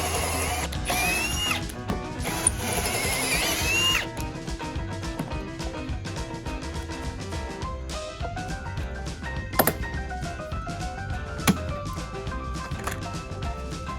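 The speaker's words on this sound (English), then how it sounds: "I went ahead and started drilling the rest of the holes for my dowels into my boards" A power drill bores dowel holes into wooden boards for a modern DIY desk, with a steady whirring drone that dips and restarts between holes and occasional sharp knocks of wood, close and loud with no talk.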